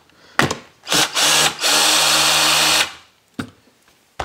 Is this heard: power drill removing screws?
yes